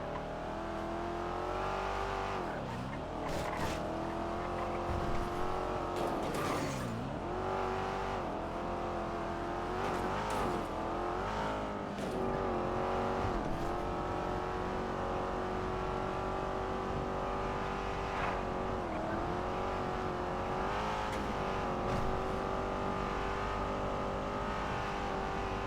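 A Buffalo car in a GTA roleplay game drives hard with a loud, close engine, repeatedly revving and dropping in pitch as it slows for braking and pulls away again, tire noise mixed in, with no talk.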